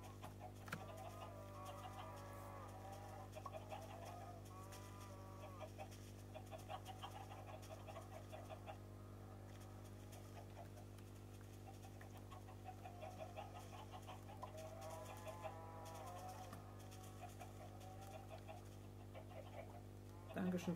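Minecraft chickens cluck in short repeated bursts over a steady game background drone, with a speaking voice present throughout at moderate level.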